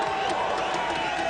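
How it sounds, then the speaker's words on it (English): Cricket crowd at a one-day international in Belfast applauding and cheering in a steady, dense roar from the stands, with a commentator talking over it. "He gets to 50, the crowd will be very happy about that"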